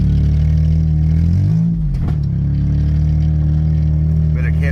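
A 1967 Chevelle engine drones loud and steady as it revs with tires struggling to spin, the note dipping and rising briefly midway, heard close throughout.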